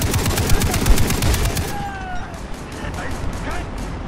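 A mounted gun fires during a village assault in the game Far Cry 3, a loud rapid string of evenly spaced shots that breaks off partway, leaving scattered distant gunfire and game noise behind it.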